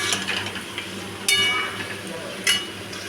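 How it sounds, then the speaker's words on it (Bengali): Yogurt-marinated chicken being stirred into masala in a pan for dahi chicken, with a steady sizzle, scraping spoon strokes and a couple of sharper clanks against the pan, no voices. "চিকেনটা দিয়ে মশলার সাথে ভালো করে মিশিয়ে নিচ্ছি।"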